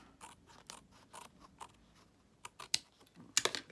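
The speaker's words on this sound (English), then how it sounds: "trim that off a little bit." Scissors trim paper for a three-pocket gate folio in a series of crisp, close snips, sparse at first, then a quick cluster of sharper cuts at the end.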